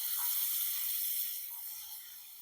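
Finely chopped onions hitting hot oil for a spicy prawn pepper fry, a bright sustained hiss that eases slightly toward the end, no voices.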